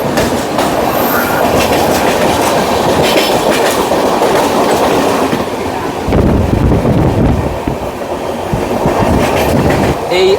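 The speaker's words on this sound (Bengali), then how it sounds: "এটা হচ্ছে আসানসোল বর্ধমান মেমু লোকাল" Asansol–Bardhaman MEMU local train with ICF coaches passing close by, a loud continuous rumble and rhythmic clickety-clack of wheels on rail joints with wind buffeting the microphone, swelling again near the end.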